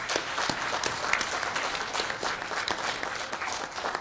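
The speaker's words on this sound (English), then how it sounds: "Let's give the panel a great round of applause." A conference audience gives the panel a round of applause, a sustained, even patter of many hands clapping, moderately loud and continuous from start to finish.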